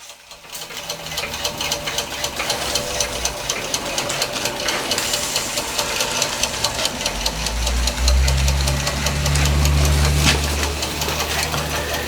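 A restored Josef Falk overtype model steam engine running at an even pace, a fast close rhythmic ticking and knocking with a low hum that swells toward the end, no voices over it.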